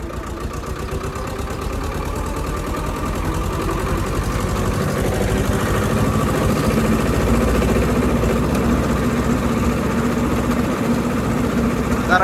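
A tractor engine, waterlogged after being driven through water, runs steadily and loudly and is revved slightly higher toward the end. The heavy rumble is continuous and close, with no voices over it.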